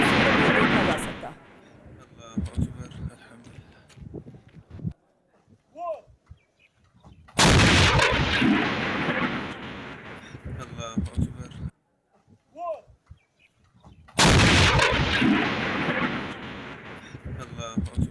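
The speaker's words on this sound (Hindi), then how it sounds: "जोरदार गोलीबारी की तस्वीरें सामने आई है" Heavy gunfire on the Pakistan-Afghanistan border booms in three loud blasts, each followed by rumbling echoes and scattered shots, with quieter gaps between them.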